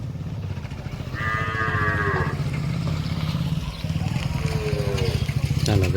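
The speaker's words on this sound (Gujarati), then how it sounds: "હાલો ગાય આવી ગઈ છે આપણી." Cattle moo as a village herd returns home in rural Gujarat, with a couple of drawn-out calls standing over a steady low rumble and a fainter moo later on.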